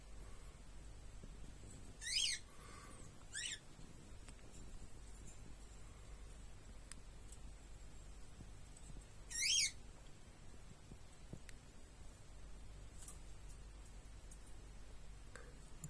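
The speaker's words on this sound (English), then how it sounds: "Okay, feeding our woodpecker." A great spotted woodpecker visiting a feeder gives a few brief, sharp, high-pitched calls spaced several seconds apart, fairly faint over a quiet, low outdoor background hum.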